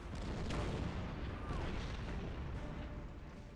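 Dense, rumbling artillery fire and distant booms roll continuously in the strategy game Order of Battle: Blitzkrieg, a low, steady barrage at moderate volume with a few sharper cracks and faint whistles over it.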